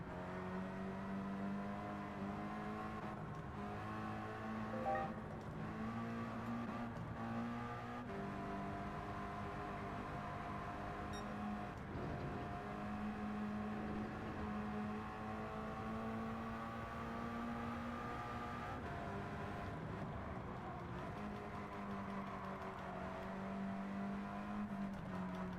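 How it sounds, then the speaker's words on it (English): A Mazda Atenza driven in the racing game Gran Turismo 7 gives a steady, close engine drone with shifting pitch that runs throughout, with no talking over it. "this Mazda Atenza is really good at handling"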